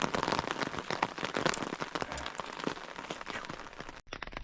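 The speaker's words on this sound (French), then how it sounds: "Il pleut toujours." Rain falls steadily nearby during a hike on the Vercors high plateaus, a busy spattering of drops with sharp taps, briefly cut off near the end.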